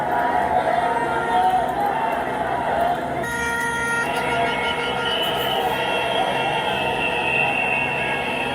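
A large crowd fills the streets of Tel Aviv: dense, continuous roar of many voices and street noise with horn-like tones, loud and steady throughout.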